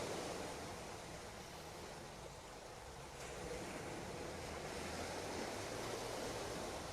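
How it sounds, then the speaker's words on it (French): Sea waves breaking near Menton on the coast facing Italy, a soft continuous wash of surf heard from a little distance, mixed with light wind rustle and no talking. "vous entendez le bruit des vagues"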